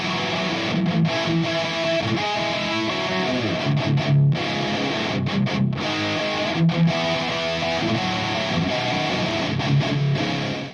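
A distorted metal guitar runs through a distortion plugin tuned for a tighter tone, playing continuous chugging riffs with brief palm-muted gaps and stops, loud and saturated throughout.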